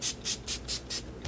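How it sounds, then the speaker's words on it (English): Makeup setting spray misted in five quick, evenly spaced bursts, close and fairly loud, with no talking. "I like to set my makeup in setting spray a lot because I am so dry"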